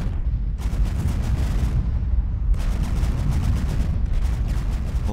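An anti-air pedal gun in the game From The Depths, firing in rapid bursts of crackling shots over a constant low rumble, with brief pauses between bursts and no talk.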